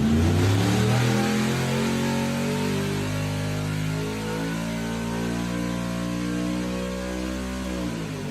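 A Kong 2650 LSR supercharger on a 427 ZR1 V8 revs hard on a dyno, its loud, steady engine roar sweeping down in pitch and then holding at a sustained drone to the end.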